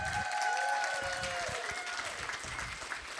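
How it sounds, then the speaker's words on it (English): An audience at a conference applauding the event staff, a dense, steady burst of clapping that holds for about three seconds, with a few voices faintly mixed in. "Let's give them a round of applause."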